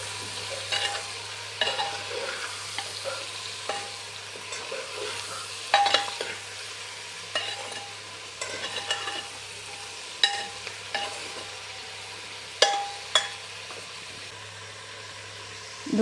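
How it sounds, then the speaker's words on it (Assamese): A spatula stirs jackfruit frying in a pan, a steady quiet sizzle under repeated scraping strokes that come every second or two, with a low hum running underneath. "এতিয়া আকৌ ভালদৰে লৰাই ল'ম"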